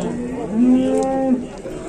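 A bull or cow lows once at a livestock market, a loud, close, drawn-out moo rising and holding for about a second over background murmur.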